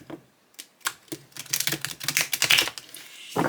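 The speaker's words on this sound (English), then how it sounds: "So let's see, we'll do the riffle shuffle." A Stranger Things tarot deck with a waxy finish being riffle shuffled up close: scattered sharp clicks building into a dense rapid fluttering burst, then a final snap.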